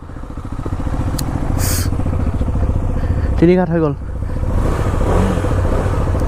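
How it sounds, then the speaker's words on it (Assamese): Several KTM Duke 250 motorcycles idle after being started on a cold morning, a loud, close, steady engine rumble throughout, with someone briefly speaking over it midway. "এতিয়া বাইকবিলাক মানে পূৰা কল ষ্টাৰ্ট দি আছোঁ"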